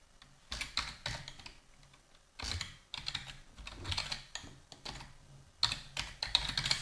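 A PHP file name is typed on a computer keyboard, soft clustered keystrokes in quick bursts separated by short pauses, close and fairly quiet.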